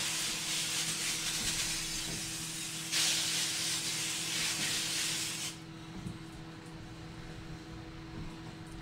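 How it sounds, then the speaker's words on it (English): Non-stick canola oil cooking spray hissing onto aluminum foil in two steady bursts, a few seconds each, over a low kitchen hum that continues after the spraying stops. "I'm going to go ahead and spray the aluminum foil with cooking spray, non-stick cooking spray."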